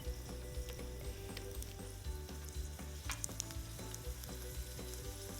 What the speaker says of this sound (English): we flip one more time and cook until this side turns golden brown